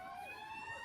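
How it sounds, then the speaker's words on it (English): Wailing electronic siren sound effect played in a movie trivia game show to mark a correct answer, a steady rising tone with layered harmonics, short and fairly loud, standing alone without talk. "You're getting some sirens because that is the correct answer we were looking for, Chris Christopherson."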